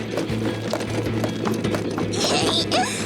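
Cartoon horse hooves clip-clopping in a quick steady rhythm, close and clear, with a brief neigh near the end.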